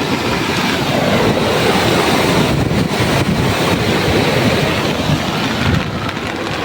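Monsoon floodwater rushes through a village in a loud, continuous roar, with steady turbulent churning and occasional gusts of wind buffeting the microphone.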